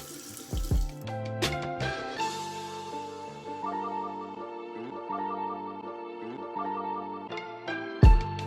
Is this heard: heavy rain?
no